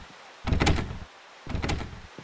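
Two rattling attempts at a locked door in a horror video game, each a close burst of handle jiggling and thumping lasting about half a second, separated by a short pause.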